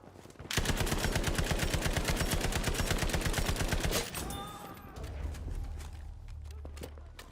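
A Japanese Type 11 machine gun fires a long, steady, rapid burst in Battlefield V, loud and close, for about three and a half seconds. Then the firing stops and softer game sounds and rumble remain.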